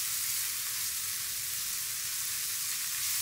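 Sweet paprika and crushed tomato fry in a pan, giving a steady, close, dense sizzle with no voices and no pauses.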